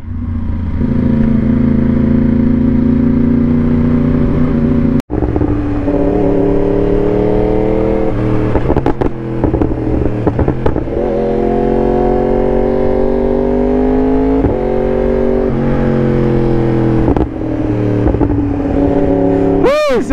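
A Yamaha R1 sport motorcycle rides along the road, its engine droning loudly and steadily with rising and falling revs, close to the microphone and accompanied by a sharp knock.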